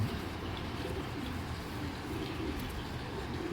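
A female red-geared Naptha pigeon coos softly and low, a faint murmur against quiet background noise.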